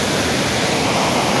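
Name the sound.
strong waves at sea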